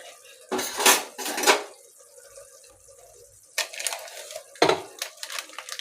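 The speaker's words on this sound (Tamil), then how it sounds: "போட்டு நல்லா கிண்டிடுங்க." Clattering metal scrapes of a spoon stirring curry masala through kuska rice in a pot, two loud bursts of stirring, a quiet pause, then two more clanking rounds, close up.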